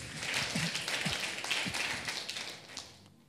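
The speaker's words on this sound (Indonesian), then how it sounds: "Tepuk tangan dulu buat Tuhan." Church congregation clapping for God at a worship night service, a steady wash of applause from many hands with faint voices mixed in, tapering off near the end.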